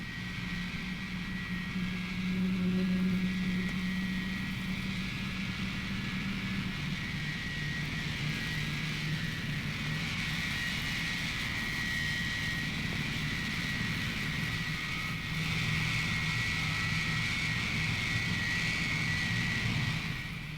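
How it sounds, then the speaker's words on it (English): Boeing B-47 Stratojet jet engines run up in a steady loud roar with a high whine on top, continuous for twenty seconds, with no voices over it. "There's no easier way to wash out a jet engine than poor starting technique."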